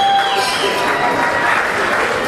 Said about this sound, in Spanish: Put your hands together for the hometown guys